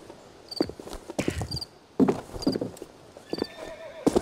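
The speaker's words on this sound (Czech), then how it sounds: "tady slyšel koně" Horse hooves clip-clop in short bursts, along with a neigh and whinny, inside the game Counter-Strike: Global Offensive. The sounds come close and clear against quiet ambience with faint insect chirps.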